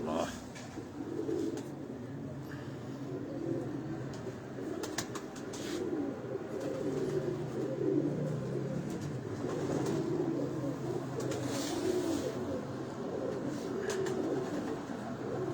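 Pigeon cooing in a loft, repeated soft throaty coos in a slow rhythm, with someone talking over them throughout.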